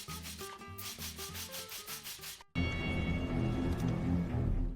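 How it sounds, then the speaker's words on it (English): Stiff brush bristles scrubbing stains in a carpet, a continuous rhythmic rasping in quick back-and-forth strokes, close and fairly loud, growing denser and harsher midway. "I'm going to use the bristles on the brush to loosen the stains."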